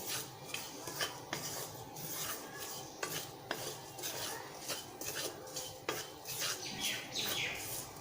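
Grated coconut roasts in a pan for karanji with cashew and almond powder, and a utensil stirs it, giving soft rhythmic scrapes and light metallic clinks against the pan, close and quiet, with no talking.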